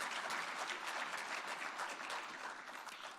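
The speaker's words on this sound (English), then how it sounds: "that's worth a round of applause" Dense, steady audience applause at a formal tribute program, a soft, distant-sounding wash of many hands clapping that holds evenly and eases slightly toward the end.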